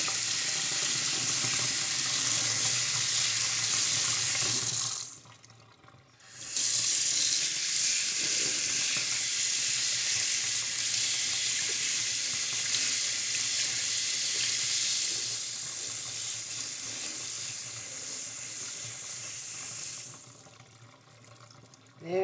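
Tap water pours in a loud, steady, close rush while makeup brushes are rinsed clean of Dawn antibacterial soap and olive oil. The flow stops briefly twice, and a voice is faintly present.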